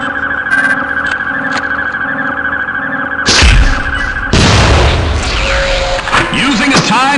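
Cluster bomb payload bursting in Gunman Chronicles, clearing an enclosed area: a steady mechanical background suddenly broken by two loud, close, rumbling explosions with crackling debris, the second one longer and trailing off.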